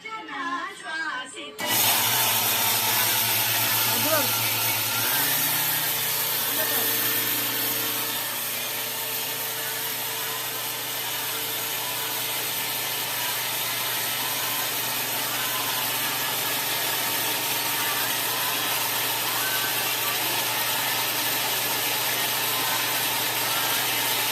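A wet grinder grinds ragi (finger millet) and jowar into idli and dosa batter. After a short start it settles into a steady, loud motor hum with a continuous rubbing churn that runs unbroken to the end.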